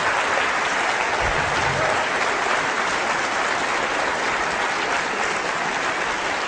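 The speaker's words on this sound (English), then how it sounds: "By your extended clapping, you're eating up into the next speaker's time." Sustained applause from a large audience after a debate speech, dense steady clapping filling the hall without letup.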